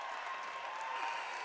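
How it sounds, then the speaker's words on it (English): Steady crowd applause fills a high school gym during a PIAA boys basketball 1A semifinal between Union Scotties and Imani Christian Saints as a player leaves the game, an even, continuous wash of clapping with no breaks. "Matt Stanley's going to get a big round of applause coming off"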